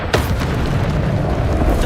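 The Bombarda explosion spell goes off in Hogwarts Legacy gameplay as one sharp burst followed by a loud, dense rumbling roar that holds steady to the end.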